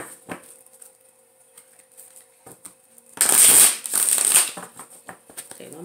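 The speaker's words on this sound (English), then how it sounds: "Okay, one more shuffle." A deck of cards being riffled and shuffled, a burst of crisp fluttering ripples in the middle after a few soft handling taps, close and fairly loud.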